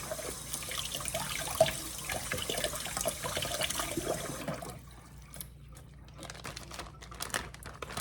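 A mango seed is rinsed under a running tap, with steady close splashing water and crinkling handling noises. The flow stops midway and is followed by quieter drips and rustling.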